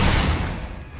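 Glacius freezing spell cast in Hogwarts Legacy, a loud crackling icy burst that starts strong and fades slowly across about one second.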